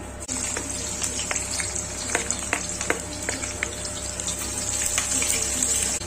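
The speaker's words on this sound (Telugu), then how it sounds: "ముందుగా ఆయిల్లో ఆవాలు వేసుకోవాలి, ఆనియన్స్ వేసుకోవాలి" Mustard seeds and onions frying in oil for a Telugu ridge gourd and moong dal curry, a steady close sizzle with scattered sharp crackles and pops over a low hum.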